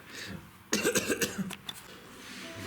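A person coughs in a quick close burst of several sharp hacks, then it trails off into quiet room hum.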